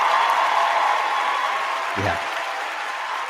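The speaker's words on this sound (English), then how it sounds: "Hey, Buddy Hield gets some applause for that." Applause for basketball player Buddy Hield, a steady wash of clapping with a brief spoken voice over it.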